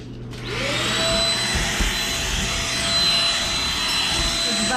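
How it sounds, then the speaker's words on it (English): A household vacuum cleaner runs with a steady, loud whine and roar from a near position, starting up after a brief quiet moment and holding constant throughout. "It's vacuum."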